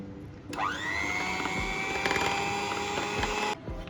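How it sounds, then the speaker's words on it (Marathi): An electric hand mixer beats a cup of whipping cream at low speed, its steady motor whine rising as it starts, running continuously for about three seconds before switching off, with no talking. "आता आपण सुरुवातीला लो स्पीडवर 5 मिनिटं व्हिप क्रीम बीट करून घेणार आहोत."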